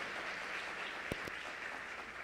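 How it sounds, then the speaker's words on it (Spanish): Applause at an awards ceremony for church music ministries plays as steady, dense clapping that fills the whole clip at moderate volume, with a couple of sharper bursts standing out briefly near the middle. "Un fuerte aplauso a todos los ministerios."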